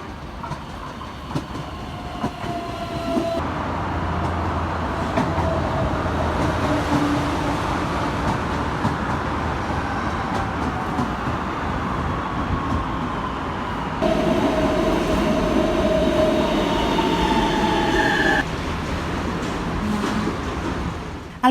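A Porto Alegre metro series 200 train, built in 2014, runs with a steady loud rumble and rolling rail noise. High squealing wheel tones rise and fade throughout, with no voices.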